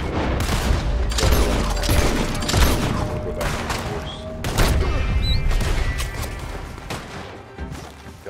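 Rapid volleys of gunfire and sharp cracks in a Red Dead Redemption 2 Online shootout, loud and dense, with repeated bursts and heavy impacts spread across the whole stretch.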